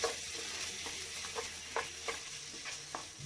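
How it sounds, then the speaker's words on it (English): Homemade fresh cream sautéing in a pan, a steady soft sizzle with a few light spoon scrapes and taps, close but fairly quiet. "Saute it."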